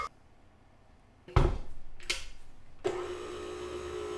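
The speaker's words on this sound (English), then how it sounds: "then we're gonna blend it up. I use the same whisk attachment." A mixer with a whisk attachment blending orange cupcake batter: brief clunks as it starts, then a steady close mechanical whir that picks up and keeps running to the end, with no talking.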